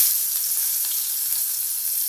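Onion frying in a pan for urad papad bhurji, a continuous bright sizzle that holds steady throughout, no voices.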